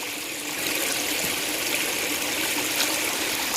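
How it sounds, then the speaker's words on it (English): Small stream with a little waterfall pouring over mossy tree roots, a steady close rush and trickle of water, continuous and fairly loud with no voices. "This waterfall is actually coming over the roots of a tree."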